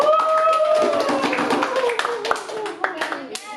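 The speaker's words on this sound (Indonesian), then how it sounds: "terima kasih, tepuk tangan untuk" Students in a classroom clap for a group after its presentation, a burst of hand claps with tonal voices over it that thins out toward the end.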